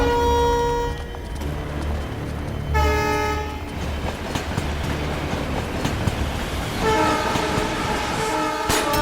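Passenger train number 10956 bound for Mumbai passes close by with a loud steady rumble and rattling wheels, while repeated harmonic horn blasts sound at the start, around three seconds in, and again near the end.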